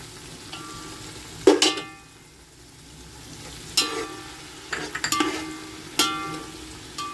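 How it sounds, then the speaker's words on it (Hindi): Coarsely ground green chillies frying in a pan, a steady low sizzle broken by several sharp clattering stirs and scrapes, with no talking. "थोड़ी देर भून लेंगे, कच्चापन इसका चला जाए। इसी के साथ हम डाल देंगे हरी मिर्चें।"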